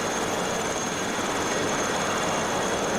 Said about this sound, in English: So it's a German helicopter